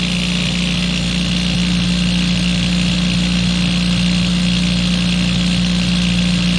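An LG Cordzero A906 cordless vacuum running during an airflow test, a loud, steady motor whine with a constant hum, close and unchanging throughout, with no talk.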